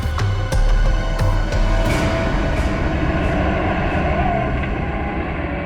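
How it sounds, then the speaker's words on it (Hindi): A truck drives through a jungle, giving a loud, steady low rumble with scattered rattles and knocks that stay close throughout. "ट्रक की आवाज? ट्रक जंगल में?"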